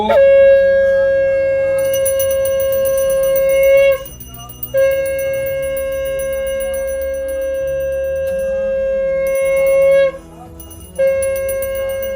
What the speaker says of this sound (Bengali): বাজাও শাক বাজাও